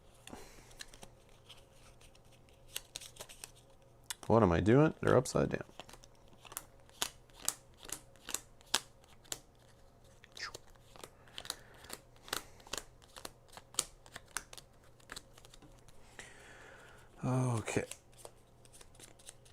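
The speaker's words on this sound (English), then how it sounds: "And then it will shuffle its deck." A deck of cards is shuffled at a tabletop board game, two brief riffling bursts several seconds apart amid sparse, crisp card snaps and taps, close and quiet, with a person talking briefly in between.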